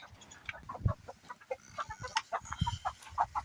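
Soft, scattered clucking of Burma breed white roosters in a coop, irregular short calls close to the microphone with faint rustling between them.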